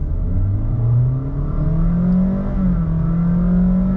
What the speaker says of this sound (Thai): เดี๋ยวเราเหยียบเต็มร้อยแล้วเราลองดูว่า0ถึง100ระยะเวลาเท่าไหร่